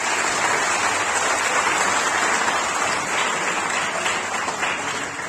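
Audience applause for the lecturers at an agricultural college orientation programme, a dense, steady wash of many hands clapping that fills the whole stretch without letting up.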